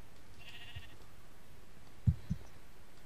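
Minecraft sheep bleating during a SheepWars match, a faint brief game bleat, then two short soft thuds over a quiet background.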